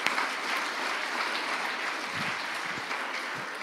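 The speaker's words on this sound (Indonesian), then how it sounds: "Wow, tepuk tangan." A talk-show audience with the governor of Central Papua applauds in a continuous, even burst of clapping that holds steady for several seconds.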